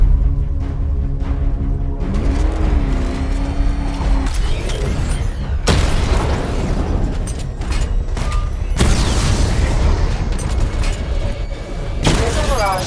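Batmobile weapons blasting targets during a weapon diagnostic test in Batman: Arkham Knight, heard as loud, repeated mechanical clanks and booming impacts with a brief rising whine, and a voice occasionally under the din.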